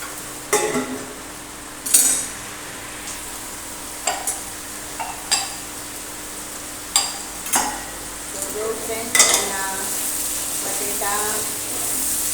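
Potatoes with tomato and salt cook in a pan under a steady low sizzle. A spatula scrapes and clinks against the pan about a dozen times at irregular intervals, close and clear.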